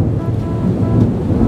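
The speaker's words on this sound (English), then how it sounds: "It's thundering outside." Thunder outside during a storm, a loud deep rolling rumble with steady rain-like hiss, no talking.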